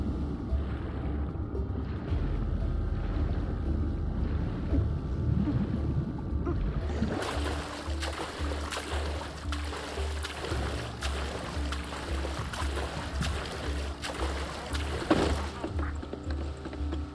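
A boat ride in the video game Far Cry 6: a steady engine drone with water wash and splashing that grows busier and louder partway through and continues without talk.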